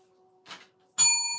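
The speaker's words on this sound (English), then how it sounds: "let's ring the bell on that" A bright bell is struck once during a spiritual tarot talk show, ringing out in a clear, sustained ding that fades slowly, after a short, faint murmur.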